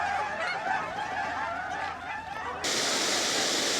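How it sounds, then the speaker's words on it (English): Migrating Canada geese honk in a loose chorus at a creek beside a dam in Wellington, Kansas, on a cold morning, the calls blending with the steady roar of water falling over the dam, which grows louder toward the end. "walking amongst all the migrating Canada geese"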